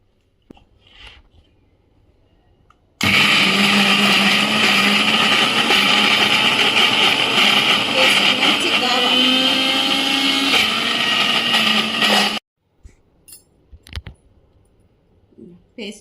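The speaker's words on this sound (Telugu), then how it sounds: "దీన్ని మిక్సీ పట్టుకుంటాను ఇప్పుడు" A mixer grinder whirs loudly and steadily for about nine seconds, grinding tamarind with garam masala, cumin and fenugreek powders for stuffed brinjal curry, then stops abruptly, leaving quiet kitchen clatter.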